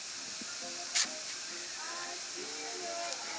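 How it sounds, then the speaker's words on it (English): Compressed air hisses steadily from leaking fittings on a vintage Champion air compressor with a Wilboken pressure switch, a faint continuous bleed with one brief sharper burst and faint tonal hums beneath. "The air is bleeding out of my fittings here faster than what's coming in the valve."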